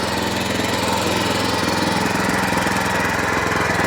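A walk-behind tractor (motoblock) on twelve small wheels drives off in first gear, its engine running loud and steady with a fast, even chugging throb throughout, no voices over it.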